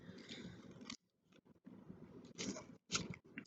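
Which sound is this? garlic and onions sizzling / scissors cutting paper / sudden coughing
scissors cutting paper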